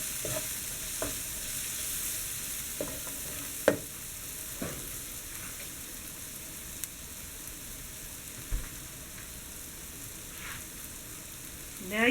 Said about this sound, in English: Stir it around so it can get a little fragrant.